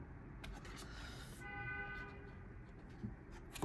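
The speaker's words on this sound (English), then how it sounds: "That's the second time Spirit has honked the horn." A distant car horn sounds once, a faint sustained honk under low room and traffic noise.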